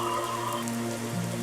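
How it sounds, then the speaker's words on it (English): Steady rain from a Unity VR beach scene, a constant close hiss of falling drops under a low electronic hum with faint tones over it. "If you want it to rain, you can turn the rain."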